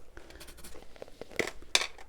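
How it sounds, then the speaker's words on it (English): A pencil sketches flower stems on paper for a watercolor tulip painting, producing soft close scratchy strokes and a few louder brushing scrapes. "You can hear me sketching it"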